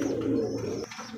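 Pigeons, Bombay and German Beauty breeds, coo softly in a low, rolling tone for under a second, then fall quiet. The sound is close and moderately faint.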